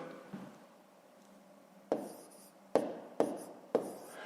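Pen or pencil writing numbers by hand on paper for a fifth-grade math exercise, with faint scratching followed by four sharp taps or strokes spaced about a second apart, close and quiet.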